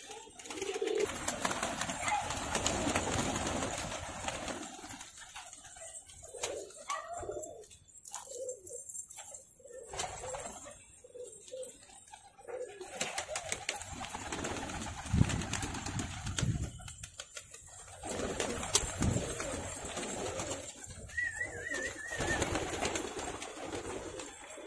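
Kalanki pigeons, including a pair around fifteen years old, coo softly in a loft, low repeated murmuring calls close by with occasional rustling and wing sounds.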